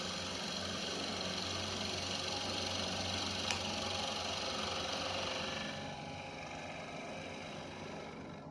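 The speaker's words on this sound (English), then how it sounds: "it was no problem whatsoever to cut in this soft pine" A Harbor Freight drill drives a Forstner bit into soft pine, a loud steady motor whir with a rough cutting buzz that eases off in the last few seconds.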